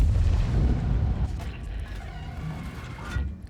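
A tank cannon fires in an online tank battle game, a low heavy boom at the start that rolls off into rumbling decay, with a voice talking over it.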